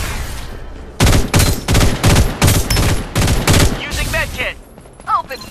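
Gunfire in the video game Farlight 84: a run of loud, rapid shots in close bursts that fills the middle of the clip, then gives way to brief voice sounds near the end.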